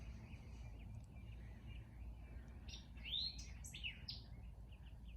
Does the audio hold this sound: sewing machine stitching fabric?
no